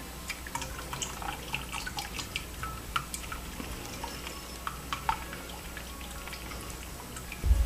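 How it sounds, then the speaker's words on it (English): Hot vegetable broth is poured through a strainer into a container, heard as a faint, irregular patter of drips and small splashes that continues quietly throughout. "Very carefully pour into the container."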